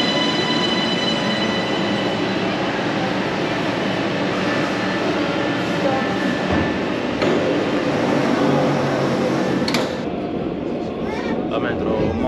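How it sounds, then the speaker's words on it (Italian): A quiet metro train pulls into an underground station in Bulgaria, its steady low rumble and hiss filling the space throughout, with a faint shift near the end as it slows. "La metro molto silenziosa."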